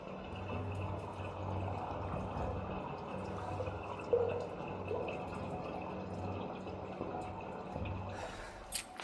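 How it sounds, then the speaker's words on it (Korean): Water drains steadily down a toilet drain after hot-water high-pressure cleaning of a backed-up low-floor toilet, a faint continuous gurgling trickle with a few small splashes. "소리가 이제 물 내려가는 거잖아요"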